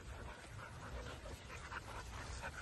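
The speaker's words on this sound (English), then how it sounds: "These are two young dogs, male and a female." Two young dogs, a male and a female, play together with faint yips, whimpers and panting over a soft background hiss, quiet and slightly distant.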